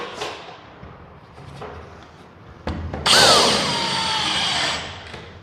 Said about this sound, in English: Now when you put your screws in, you don't want them going too far into the board, you want them just countersunk.